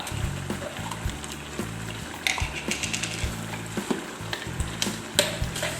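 Chili sizzles and crackles as it's stir-fried in a hot pan seasoned with fish sauce, a spatula scraping and clacking against the metal in irregular bursts over a steady low hum, close and fairly loud.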